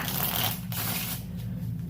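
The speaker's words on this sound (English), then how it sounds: "I'll give the cards a couple of shuffles here, a couple of cuts." A deck of playing cards is shuffled during a blackjack gambling card routine, giving a continuous close, crisp riffling rush for about two seconds with no talking.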